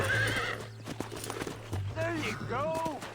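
Horse in Red Dead Redemption whinnying and snorting while its hooves clip-clop in a loose, uneven rhythm, close by, with a voice speaking over it.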